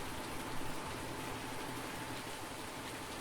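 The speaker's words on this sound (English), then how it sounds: "Oh, and it's still raining. It's raining good too." Steady, dense rain falling across farm fields in the video game Farming Simulator, a constant even hiss with no breaks, heard alone throughout.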